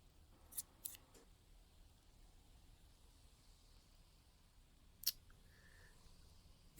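Small scissors make a few quick, crisp snips while trimming a houseplant in a quiet office. There are two close together near the start and one more later, all near and soft against a faint hiss.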